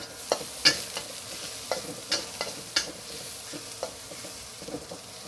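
Stir-frying in a wok over a powerful, intense wok burner, with a steady sizzle and sharp scraping stir strokes at irregular intervals, close and fairly loud, no talking.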